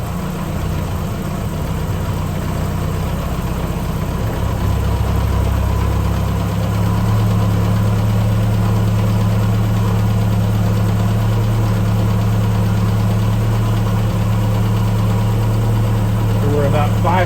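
A-Series engine fitted with SU HS2 carburetors running steadily after cranking, a loud continuous close idle with a low throbbing hum that rises slightly partway through.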